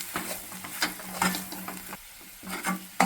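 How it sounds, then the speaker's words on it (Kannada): Spoon scraping and stirring a soft mashed potato filling for aloo paratha in a pan, in uneven strokes over a light sizzle, close and fairly loud. "ಇವಾಗ ಮಿಕ್ಸ್ ಮಾಡ್ಕೊಳ್ಳೋಣ."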